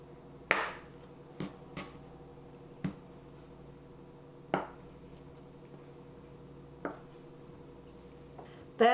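A knife slices tofu into strips on a cutting board, giving sharp, separate knocks spaced irregularly a second or so apart, close and fairly quiet, with no talking.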